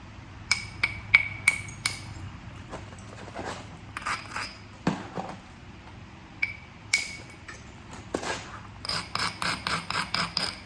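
Sharp strikes and scraping rasps sound as Tallahatta quartzite is flintknapped, with scattered single hits early, then a rapid run of evenly spaced taps at the end, close and crisp.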